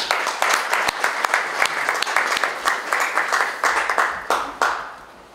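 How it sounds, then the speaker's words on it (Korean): An audience claps at the opening ceremony of the Tongyeong International Triennale craft special exhibition; the loud, dense applause holds for several seconds, then thins and dies away near the end. "큰 박수 부탁드립니다."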